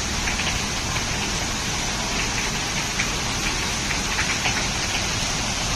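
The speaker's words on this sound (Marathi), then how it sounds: "खूपच जोराचा पाऊस आहे" Heavy summer rain pours down in a steady, dense hiss of drops striking surfaces, close and loud throughout with no break.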